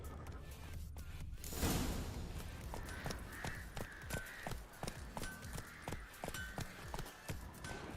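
Roach, a horse in The Witcher 3 video game, gallops with a steady, fairly close clip-clop of hooves that repeats evenly across the whole stretch after a brief whoosh near the start.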